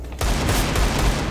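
Rapid gunfire in a shooter video game, a burst that kicks in abruptly after a short quiet lead-in and keeps rattling loudly with heavy low thumps.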